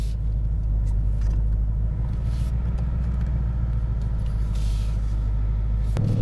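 A 2021 Ford Mustang GT V8 engine runs with a deep, steady rumble and throbbing low growl, close and continuous, with a brief sharp click near the end.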